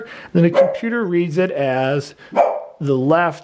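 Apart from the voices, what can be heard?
bulldog barking in the background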